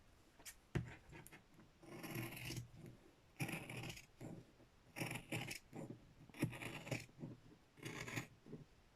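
Scissors snip through chenille yarn at close range in several rough, rasping cuts spaced across the clip, with small handling clicks between them and nobody speaking.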